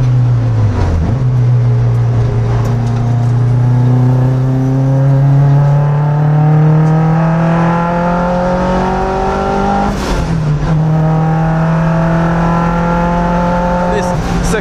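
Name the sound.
boosted Mazda MX-5 Miata driving on race track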